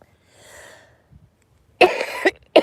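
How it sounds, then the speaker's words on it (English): A person coughs in two harsh bursts near the end, loud and close, after a faint breathy exhale and a soft click earlier; no talking. "Nobody wants to sit here and hear you cough."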